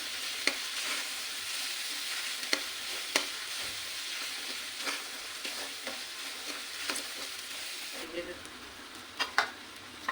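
Fish curry base sautés in a pan, cooked the simple village way: a steady, moderately loud sizzle with sharp, intermittent stirring clicks and scrapes throughout.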